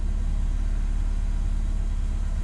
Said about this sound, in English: got about just over 1000 RPM and it's running very, very happy at the moment